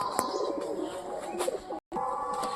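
Pigeons, a red one among them, coo in soft bursts amid sharp chirps and faint rustling, with a brief cutout near the end; close and moderately quiet, no clear speech.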